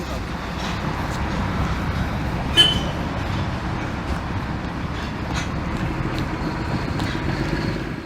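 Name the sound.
old Indian train moving forward before reversing onto another track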